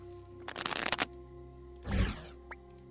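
A deck of playing cards is shuffled at a tabletop card game, with two quick riffling bursts close by and quiet between them.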